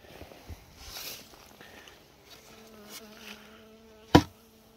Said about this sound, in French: Les abeilles sont bien, sont calmes,